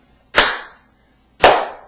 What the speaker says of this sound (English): Now, watch, I'll clap